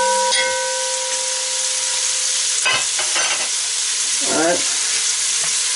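Ackee fries in coconut oil with a loud, steady hiss and crackle, broken by a few scraping stirs of the spoon in the pan, with no talking.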